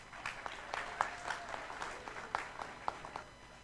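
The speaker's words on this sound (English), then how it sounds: "Big round of applause to the students." Audience applause for students at an international development conference and awards ceremony, moderate steady clapping from a hall crowd, fairly distant and not very loud, with a few sharper individual claps standing out.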